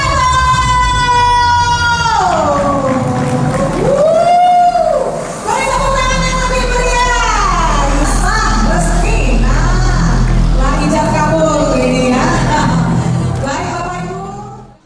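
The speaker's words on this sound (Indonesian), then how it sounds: "dengan menekan tombol sirene" A loud, close siren sounded at a ceremony before invited guests wails, its pitch sliding up and down in repeated sweeping cycles before trailing off at the end.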